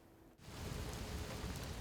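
Rain falls steadily on a wet day in St. Paul, a soft, even hiss that swells after a brief quieter moment and then holds at a faint, constant level.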